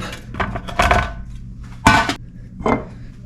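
Halved Brussels sprouts dropping into a pan in a few quick clattering bursts, close and clear, with short pauses between tosses.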